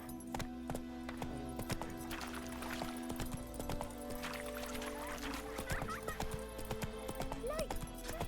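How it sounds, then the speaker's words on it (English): A horse gallops in The Witcher 3 video game, giving a steady rhythmic clip-clop of hooves with a snort or whinny, set against game ambience and a faint voice. "Run, Roach"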